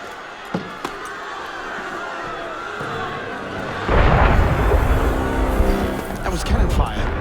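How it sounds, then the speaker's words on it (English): Cannon fire in the video game Assassin's Creed Unity, a deep booming blast that swells in at about four seconds into a sustained rumbling roar, following a quieter stretch with a couple of faint thuds. "That was cannon fire."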